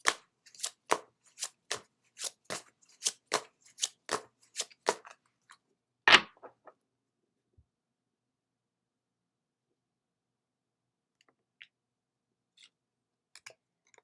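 A deck of oracle cards is riffled and handled close up, giving a quick run of about a dozen crisp, evenly spaced flicks, then one louder snap followed by quiet with a few faint taps.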